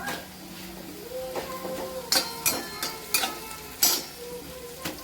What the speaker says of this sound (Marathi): हिरव्या मिरचीला पण छान परतून घ्यायचे.